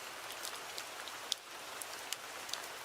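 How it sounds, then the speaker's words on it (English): Gentle rain falling steadily as a soft, even hiss, with occasional sharper drips standing out, quiet and uninterrupted. "this sound, gentle rain, is the top sound of all white noise sounds that people pick"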